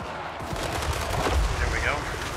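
Cannons fire during a Total War video game battle, heard as dense rapid volleys of cracking shots and thumps mixed with continuous battle din at moderate loudness.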